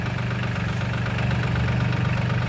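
The three-cylinder diesel engine of a Solis 26 Xtra 24 hp four-wheel-drive compact tractor idles steadily up close, a low, even chugging throb with no voices.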